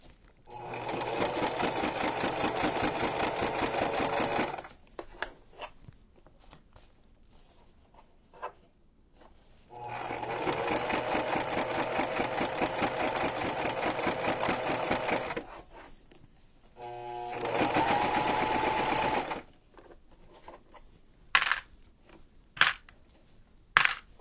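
A sewing machine stitches a junk journal cover in three long, loud buzzing bursts separated by quiet pauses filled with small handling clicks, ending with a few sharp knocks.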